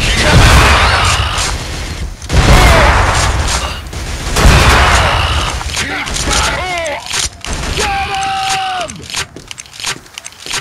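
Loud gunfire and heavy booming explosions from the Killzone video game come in big bursts, then settle into scattered shots and mechanical rumble while soldiers shout over the combat.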